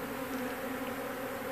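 Honeybees buzz in a dense, steady drone during a hive removal, a close and continuous swarm hum with no pauses.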